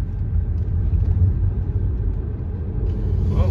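Car accelerating on a driving test route: a continuous low engine and road rumble from inside the vehicle that swells slightly toward the end.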